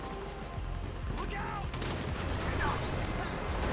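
Gunfire in the video game GTA 5 during a heist mission against a military response, steady dense shooting over a noisy game soundscape with scattered bursts and booms, with no speech.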